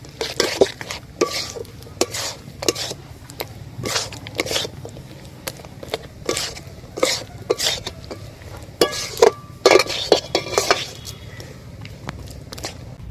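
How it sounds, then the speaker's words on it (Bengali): Peanuts stirred into hot sugar caramel in a pan, irregular scraping and clattering stirs with sharp knocks of the spoon against the metal, close and fairly loud, no speech. "আর বাদামগুলো দিয়ে অল্প একটু নাড়াচাড়া করেই নামিয়ে নিতে হবে।"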